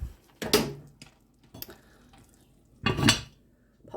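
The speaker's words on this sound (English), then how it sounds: "Give that a scrape." Someone scrapes a cooking pot with a utensil in two rough metallic bursts, with lighter taps and clinks between them, close and clear in a quiet kitchen.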